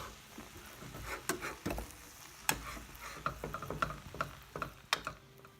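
A utensil stirs turkey and vegetables into cooked coconut rice in a pan, giving quiet scrapes, taps and soft clicks in an irregular rhythm along with faint sizzling.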